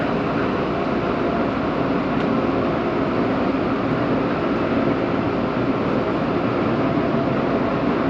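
A Seibu Sayama Line train at Nishi-Tokorozawa station gives off a steady, loud rumble with broad mechanical hum. The noise holds even for the whole stretch, with no voices over it.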